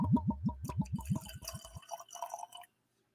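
Deanston Virgin Oak whisky glugs from a bottle into a wide-based glass, with rapid rhythmic gurgles that thin into a trickle and light splashing before stopping.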